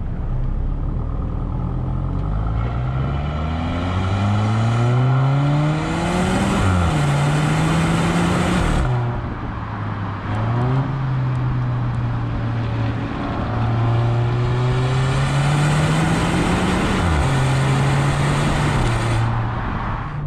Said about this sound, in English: And you actually get a nice burble from that exhaust.